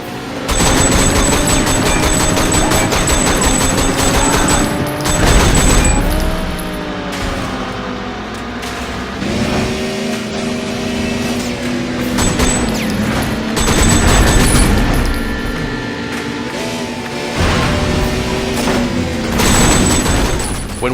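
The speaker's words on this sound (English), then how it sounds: "catch up to an enemy, shoot out his tires, and then speed away to the next target" Repeated gunfire in a Sleeping Dogs car chase as tires get shot out, rapid cracking bursts over roaring engine whine and mechanical clatter, loud and continuous throughout.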